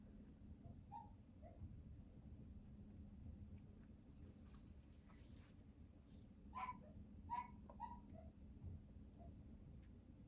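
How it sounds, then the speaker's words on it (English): Faint, far-off barking from a dog outside a first-floor apartment: a few scattered yips and barks in the second half, heard over a low steady indoor hum with no talking. "I know y'all hear that dog."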